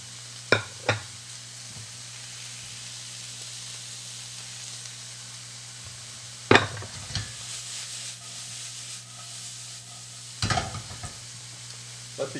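Bacon, onions and garlic for pasta carbonara sizzle steadily in a pan, a continuous close frying hiss broken by a few sharp clacks of stirring at intervals.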